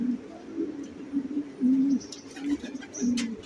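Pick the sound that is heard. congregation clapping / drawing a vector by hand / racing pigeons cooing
racing pigeons cooing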